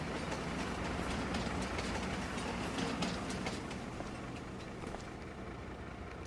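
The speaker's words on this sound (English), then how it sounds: "there goes the train" A train rolls past in Farming Simulator 25, giving a steady rumble with rhythmic clickety-clack of wheels over rail joints that holds for several seconds at moderate distance, then eases off slightly.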